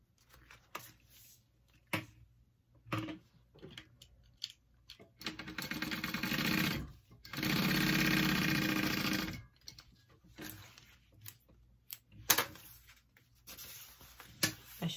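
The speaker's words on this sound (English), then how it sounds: "I forgot to sew my gusset pieces together, so I'm going to do that really quick for my lining" A sewing machine stitches lining gusset pieces for a handbag, with two sustained bursts of whirring and scattered handling clicks and taps in the quiet pauses between.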